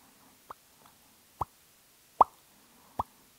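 Matte lip product dabbed onto lips with an applicator tip, giving four soft, separate wet taps spaced under a second apart, close and quiet with nothing else around them.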